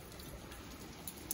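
Rain falls steadily at a temple (gompa) entrance in Mirik during heavy rain, a soft, even broadband hiss with faint scattered drops, continuous and fairly quiet with no voices.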